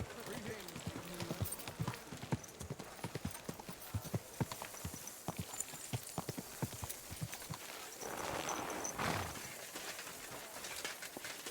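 Horse hooves clip-clop steadily and close by in Kingdom Come: Deliverance II, a quick rhythmic series of hoof strikes that lasts throughout, with a brief swell of rushing noise near the end.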